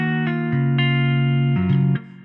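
Clean electric guitar run through a Guitar Rig passive clean preset in FL Studio for an Afro-style beat, playing a short melodic phrase of sustained notes and slides, close and clear with no voices.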